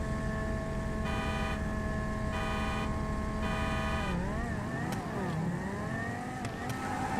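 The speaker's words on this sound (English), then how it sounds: "you should hear your car rev a little bit louder" A car engine in GTA V revs steadily at a higher, louder pitch, then shifts up and down through rising and falling tones, loud and close throughout with no talking.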